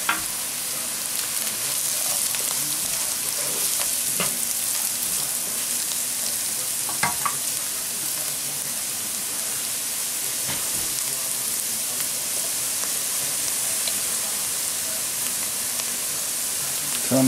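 Fish added to sweet potato curry frying in a pan, a loud, constant sizzle with occasional stirring clinks and scrapes, close up and uninterrupted, without speech.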